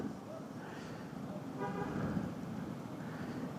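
Stop-and-go traffic in Kebagusan, South Jakarta, makes a low, steady road rumble, with a short car horn toot sounding from a moderate distance partway through and faint voices mixed in.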